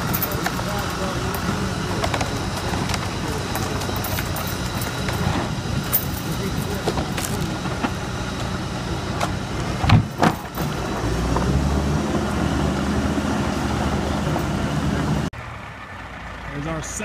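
A second track hoe excavator rolls in while land is being cleared on a homestead; its low engine rumble runs steadily and grows heavier toward the end, with people talking over it.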